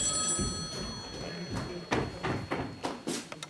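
A telephone rings with repeated bell-like bursts on a theatre stage during a French play, heard at moderate distance amid stage noise and movement.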